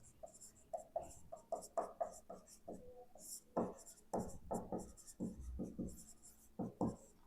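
Handwriting strokes from a teacher writing on a board during a geography lesson, a run of short scratchy marks in quick bursts, fairly close and moderately loud, with no talk over them.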